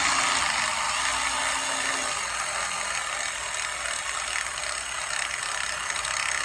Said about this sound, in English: we're gonna install this bolt and the other one on the corner